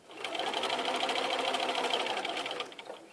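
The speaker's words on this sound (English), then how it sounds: "I'm stitching down the stitching on top of the stitching line right here of the lip" A sewing machine stitches along the lip of a bound buttonhole, running steadily at close range for about two and a half seconds with a fast, even whir before slowing to a stop.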